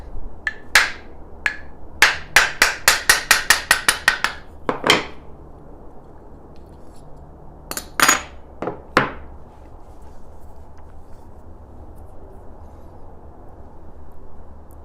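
A hammer taps the body of a wooden hand plane to loosen and remove its blade: a quick burst of sharp knocks, a pause, then a few more scattered taps against a quiet room.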